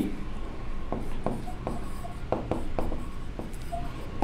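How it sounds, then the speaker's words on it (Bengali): A pen scratches across paper in short, irregular strokes while an example is written out by hand, close and fairly quiet, with separate taps and scrapes marking each stroke. "তো একটু খেয়াল করেন, আমরা এক্সাম্পল লিখি"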